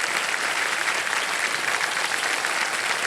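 A studio audience at a televised quiz show breaks into steady, enthusiastic applause, loud and even from start to finish, with no voices over it.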